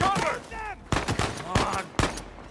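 Gunfire from a sniper in the video game Uncharted 4, with loud sharp shots cracking out repeatedly amid a busy battle mix, while shouted voices and other noise carry underneath.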